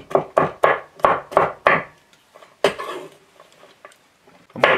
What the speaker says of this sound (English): Now look, I got a few cloves of garlic here. I'm just going to kind of coarse chop them